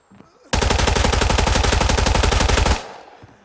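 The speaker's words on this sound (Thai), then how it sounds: "ฉันยิงหมอนั่นไม่ล้มได้ยังไง" Rapid automatic gunfire from the video game Arena Breakout, a loud sustained burst of evenly spaced shots lasting about two seconds that cuts off sharply, with no talking over it.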